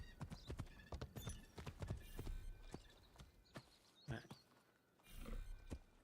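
Rapid clip-clop of horse hooves trotting on a hard surface in an Assassin's Creed video game, steady and fairly loud, with a brief lull before the hoofbeats pick up again.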